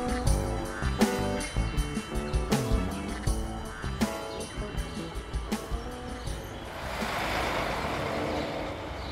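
Traffic passes along a busy city avenue with cars and buses, with engines rumbling, a hiss like an air brake and a rising swell of passing vehicles, mixed with background music.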